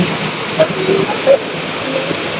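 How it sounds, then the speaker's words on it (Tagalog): Heavy rain patters steadily throughout, heard from a waiting shed, with a few brief louder knocks standing out, and low murmuring voices faintly underneath. "Lakas ng ulan."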